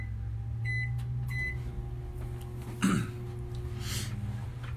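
A microwave oven runs with a steady low hum while coffee warms, a few short beeps near the start, and a cough or throat-clearing breaks in midway.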